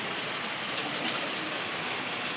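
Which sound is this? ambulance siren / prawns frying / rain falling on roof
rain falling on roof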